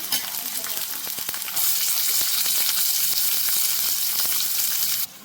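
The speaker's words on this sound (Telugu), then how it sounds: "ఇప్పుడు నేను ఉల్లిపాయలు వేసేసుకుంటున్నాను" Chopped onions hit hot oil in a pan and fry with a loud, continuous close sizzle that swells and holds steady, with occasional stirring clicks.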